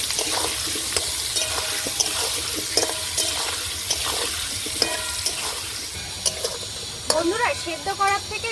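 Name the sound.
young jackfruit frying and being stirred in a pan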